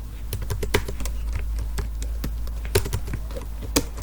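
Keystrokes on a computer keyboard while entering text in MS Word, a steady run of close, crisp taps with a few louder key presses, likely Enter, standing out along the way.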